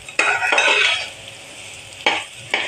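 Rice being roasted and stirred in a pan, a close sizzling hiss with quick scraping stirs in short bursts, the frying easing between strokes.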